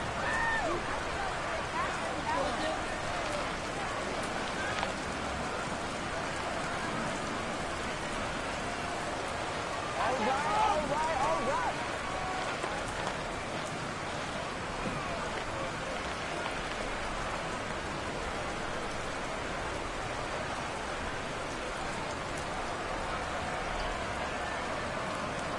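Steady rain falls on a stadium during a video game American football match between the Dolphins and Jets, a dense continuous hiss lasting throughout, with commentary voices talking over it.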